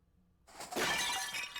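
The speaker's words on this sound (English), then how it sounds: "The sound of shattering glass is more annoying than he thought." Glass shatters from a thrown clock in the Fate/stay night Heaven's Feel visual novel: near silence, then one loud sudden crash with bright tinkling fragments scattering and trailing on for about a second.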